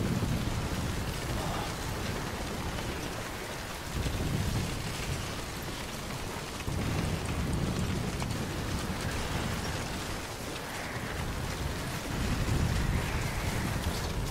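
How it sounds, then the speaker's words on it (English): Steady rain hisses throughout, with deep rolling rumbles of thunder swelling and fading in the background, in the video game Death Stranding. "Freaking rain."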